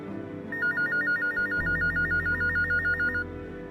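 A telephone rings steadily in a rapid warbling trill, loud and close, over a low background hum, with no one speaking.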